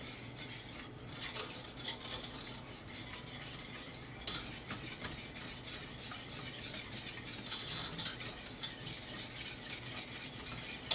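Butterscotch pie filling being stirred as milk is worked into it, a steady scraping and swishing that runs continuously at close range with no talking.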